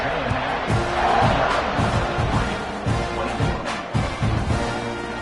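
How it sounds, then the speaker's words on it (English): Stadium crowd buzzing in a TAMU versus Oregon football video game after a score, a loud continuous roar of many voices with swelling cheers and scattered shouts throughout. "this crowd is buzzing after that last score"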